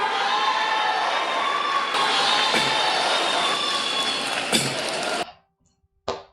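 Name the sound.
crowd of Lula supporters cheering and applauding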